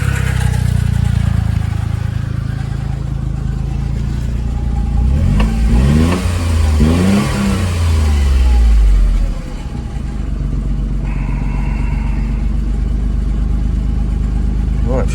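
Smart 450 City Coupe Passion with a new aftermarket exhaust revs up in a few rising and falling sweeps from idle, close and loud, then settles back to a steady idle.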